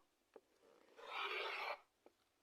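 A rotary cutter rasps through sewn quilt block fabric on a rotating mat in one close, smooth swipe of about a second, bracketed by two soft taps.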